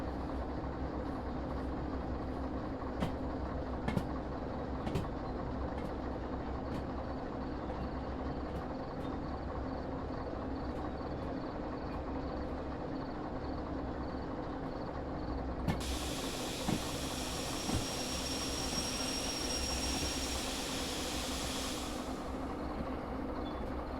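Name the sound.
train engine idling and hissing steam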